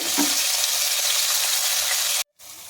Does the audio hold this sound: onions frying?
yes